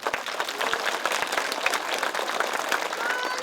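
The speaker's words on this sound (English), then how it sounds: "So give her a round of applause." Audience applause at a school celebration honoring Hilda Sundermann, a dense, even patter of many hands clapping at moderate volume throughout.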